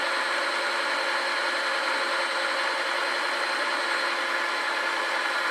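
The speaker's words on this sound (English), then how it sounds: "We're on speed 6 out of a 12-speed mixer" Sunbeam MixMaster FPSBSM2103 stand mixer running steadily at speed 6 of 12, a continuous even motor whir and hum with no change in pitch, close and alone.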